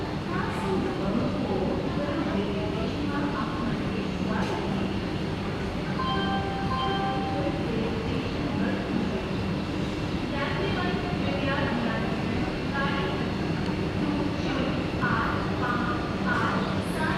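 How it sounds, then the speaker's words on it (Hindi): Vande Bharat Express on the Durg–Visakhapatnam route pulling into platform 3 of a station, a steady rumbling hum with rail and carriage noise throughout, station bustle and voices mixed in. "हमारी ट्रेन प्लेटफॉर्म नंबर 3 में आई है।"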